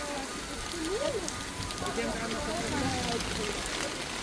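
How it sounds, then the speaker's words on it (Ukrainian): Steady rain in the Carpathian mountains patters on surfaces all around, a dense, constant hiss while voices talk over it. "Ось такий дощик пішов."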